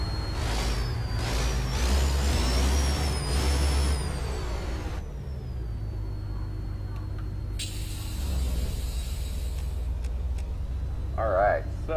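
A truck engine cranking up in American Truck Simulator, a low diesel rumble with whooshing and a sharp air-brake-like hiss, heard beneath someone talking.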